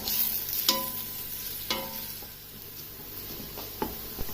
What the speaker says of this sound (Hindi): अब प्याज को इसमें गोल्डन ब्राउन कलर होने तक फ्राई कर लेना है।